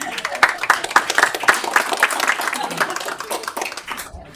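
Audience at a Yukon city council meeting bursts into applause, a dense run of clapping that fades out near the end, with some voices mixed in.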